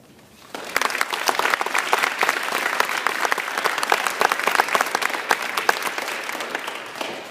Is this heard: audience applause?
yes